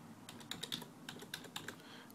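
Rapid bursts of keystrokes on a computer keyboard, close and clear, typed in short uneven runs with brief pauses, no voices.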